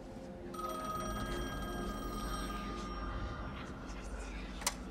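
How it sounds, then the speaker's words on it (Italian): A telephone rings steadily in an Italian hotel setting in the horror video game The Medium, a bright sustained trill over a low rumbling ambient drone, with a sharp click near the end. "c'è un telefono che squilla, deve entrare"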